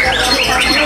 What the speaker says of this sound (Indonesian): Murai Batu Kiu-Kiu